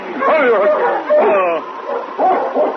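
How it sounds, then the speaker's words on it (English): A sled dog team pulls up in front of a trading post in a Yukon radio drama, with barking and excited yips running almost without a break, loud and close, across a few overlapping bursts. "Preston and King, coming down from Dawson, stopped with the dog team in front of the trading post."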